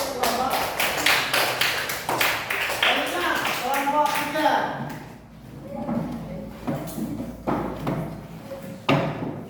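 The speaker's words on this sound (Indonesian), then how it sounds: "beri tepuk tangan untuk" Schoolchildren clapping in an elementary classroom, a run of sharp hand claps and taps mixed with young voices chattering, loud and close, thinning out toward the end.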